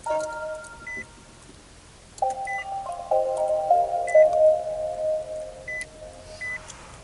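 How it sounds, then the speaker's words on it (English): A Nissan Leaf electric car's push-button start-up gives a few soft electronic beeps followed by a rising, sustained chime of stacked tones, with faint periodic bleeps over a quiet cabin background. "All you have to do is press this button right here to push to start"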